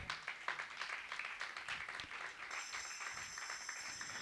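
A church congregation clapping together in a steady, sustained burst of applause, fairly close and dense, with a faint tone appearing partway through.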